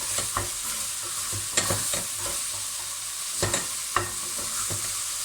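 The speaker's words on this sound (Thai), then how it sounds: "ผัดพอเห็ดสุกนะคะ" Mushrooms being stir-fried in a pot for a savory mushroom cake, with steady soft sizzling and several sharp scraping clicks of a utensil against the pot at irregular intervals.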